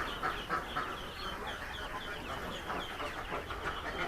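Day-old chicks in a brooder pen, many high peeping chirps overlapping in a busy chorus at moderate distance, fairly soft and continuous.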